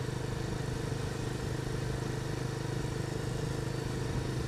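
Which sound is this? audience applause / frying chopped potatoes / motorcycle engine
motorcycle engine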